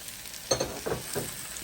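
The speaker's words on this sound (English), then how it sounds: "So after about 40 seconds of sauteing, I'm going to add the diced potatoes." Diced potatoes hit hot oil with masala and turmeric for masala dosa filling, giving a low sizzle and a few soft scraping stirs in a short, quiet burst.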